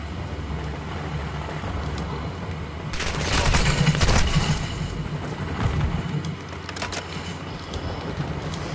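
Gunfire in Call of Duty Modern Warfare 2, a rattling burst of automatic shots swelling mid-clip then scattered cracks over continuous battlefield ambience.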